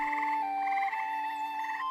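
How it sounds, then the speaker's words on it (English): Frogs croak in a stagnant, marshy fen, a steady, unbroken chorus of overlapping calls at moderate loudness, holding evenly for the whole stretch with no voices. "Croaking frogs and cicadas create an incessant din."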